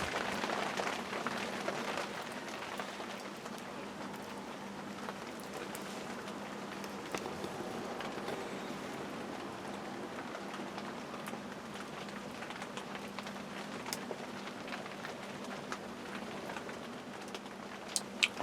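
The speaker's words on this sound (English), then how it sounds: "I like listening to the rain, you know." Soft rain falls steadily over a back step garden, a faint, even patter of drops with a few louder taps near the end, heard alone without talking.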